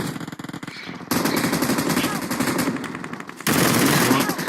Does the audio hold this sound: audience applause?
no